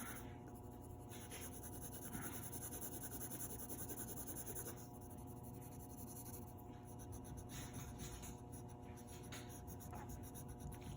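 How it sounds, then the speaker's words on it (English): Pencil shading on paper with a No. 2 graphite pencil, a steady close scratchy rubbing that runs continuously and softly with brief pauses, no voices. "I lay the color in, that's what this is, and I'm gonna kind of rub it in a little bit"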